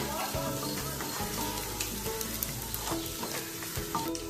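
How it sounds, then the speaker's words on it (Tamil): Green chillies and onions sautéing in a hot pan with oil, a steady close sizzle broken by scraping stir strokes and clinks of the spatula, with a faint bit of background noise. "இப்போ பச்சை மிளகாய் ஆட் பண்ணிட்டு கொஞ்சம் வதக்கி விட்டுருங்க"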